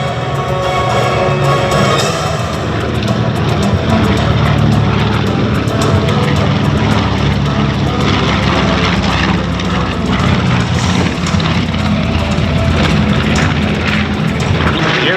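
A B-25 Mitchell medium bomber passes over at an air show, its piston engines and propellers producing a loud, steady broadband roar that holds throughout with no talk.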